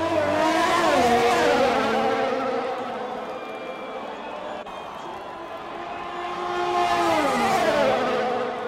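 A Ferrari race car engine in a Formula-style racing video game roars loudly, its pitch climbing and falling through gear changes, fading mid-clip before a second car surges in with another rising wail.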